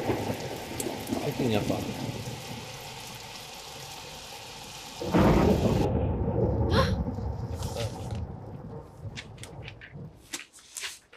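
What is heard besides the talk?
thunderstorm in video game Nancy Drew: Warnings at Waverly Academy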